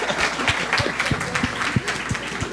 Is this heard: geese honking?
no